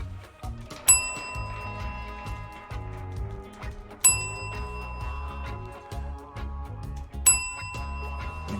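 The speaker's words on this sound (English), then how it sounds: "You get 3 bells, Johnny Hellcat." A bell rings three times at even intervals, each strike bright and ringing out over a low background of music.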